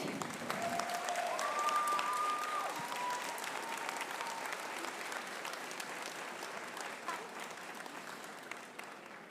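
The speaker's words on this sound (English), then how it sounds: "let's give it a round of applause for Manu Bennett" Crowd applause for actor Manu Bennett at the Aniventure Comic Con 2025 panel, a broad sustained roar of clapping that starts abruptly, holds steady, then slowly thins, with a few cheers rising briefly near the start.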